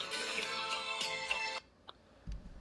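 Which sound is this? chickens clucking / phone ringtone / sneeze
phone ringtone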